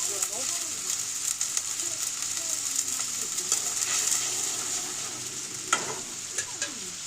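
Blended dried chili paste sizzles steadily in a pan with rohu fish and eggplant, a dense continuous frying hiss broken by occasional stirring clinks.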